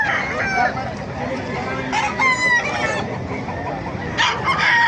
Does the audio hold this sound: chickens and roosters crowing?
yes